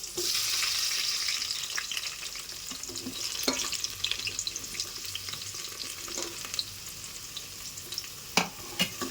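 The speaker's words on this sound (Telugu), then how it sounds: "ఇక్కడైతే ఉల్లిపాయలు పచ్చిమిరపకాయలు వేగినాయి" Onions and green chilies fry in a pan with a soft continuous sizzle and occasional stirring scrapes and taps, fairly quiet and close, without speech.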